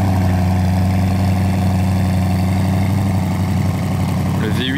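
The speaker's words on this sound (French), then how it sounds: "Le V8 est froid sur cette Bentley Continental GT." Bentley Continental GT with a cold V8 engine idles steadily, a loud, even, deep rumble that holds throughout, close to the exhaust, with a brief higher sound near the end.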